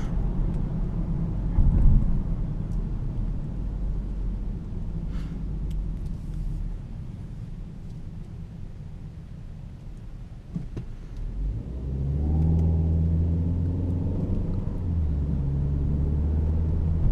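A Peugeot 508 engine hums as a steady low rumble while driving, with the note rising and thickening toward the end as the car pulls harder, heard alone without talk.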